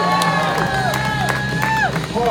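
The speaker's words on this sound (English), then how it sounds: "Pause for applause." A crowd cheers and claps for a family at a JDRF charity ride event, with whoops and rising whistles over steady, close applause throughout.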